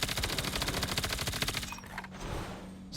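Rapid automatic gunfire in a mobile shooter game, a steady rattling stream of shots for about two seconds that then cuts off, close and even in level.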